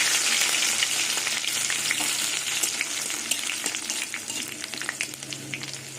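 Dried red chillies, nigella seeds and crushed garlic frying in hot oil, giving a continuous bright sizzle with scattered pops and crackles, fairly close and steady throughout, gradually easing slightly.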